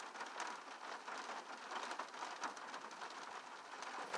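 Rain falling in Virginia Beach, a faint, steady hiss of drops that stays even and unbroken throughout with no voices.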